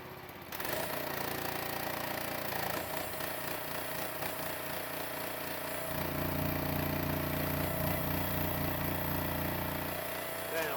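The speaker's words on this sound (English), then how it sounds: "The gas engine I'll use first" Gas engine on an LT40 sawmill starts up and runs the hydraulics, a loud steady mechanical drone with a rough, buzzing tone that shifts slightly in pitch partway through as the load changes.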